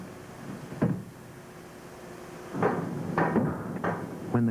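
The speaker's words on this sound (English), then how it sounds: "When the cutters were fitted into place, the connecting pins were driven home." Connecting pins are driven into the cutters of a 36-inch hole opener on the Hibernia drilling rig. A handful of sharp, separate metallic knocks sound at uneven intervals over a steady low background rumble.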